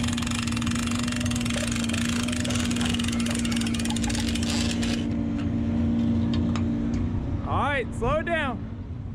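An outboard boat motor idles steadily during boat loading, a low droning hum with a fixed tone, then drops away near the end as talk is heard over it.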